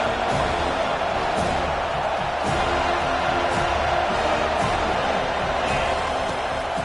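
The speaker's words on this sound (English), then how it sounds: "Here comes his home crowd as the defense tries to get off the field on third down." A home crowd roars steadily through a football game on a third-down play, a broad sustained wall of cheering and whooping that fills the space, loud and unbroken from start to finish.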